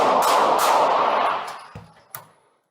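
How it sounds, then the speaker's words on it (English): A police sergeant's duty pistol fires on a bodycam: a few sharp, loud reports over a dense burst of noise, with two distinct cracks near the end before the sound fades out. "The sergeant then used his duty pistol to shoot the woman"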